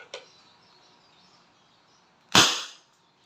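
A Wingun 708 revolver airgun with a 2.5-inch barrel fires one sharp, loud crack close by, preceded by a faint click and quiet background.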